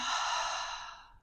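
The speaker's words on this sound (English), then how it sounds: "full breath out." A deep, steady breath out through the mouth during a gentle prenatal yoga class, a breathy hiss that is close and soft and fades gradually over about a second.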